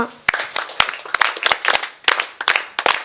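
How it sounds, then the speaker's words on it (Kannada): A short round of applause for first-grade students at a school celebration, a small crowd clapping in quick uneven bursts, close and fairly loud, lasting a few seconds. "ಈ ವಿದ್ಯಾರ್ಥಿಗಳನ್ನು ವಿಶೇಷ ಚಪ್ಪಾಳೆ ತಟ್ಟಿ ಹರಸೋಣ"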